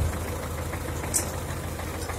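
An old 1975 tractor engine runs at a steady idle, giving a continuous low, throbbing rumble with a faint knocking texture. It stays even and moderately close throughout, with no talk over it.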